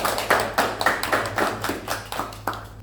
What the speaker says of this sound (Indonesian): bagus Dewi, aplaus.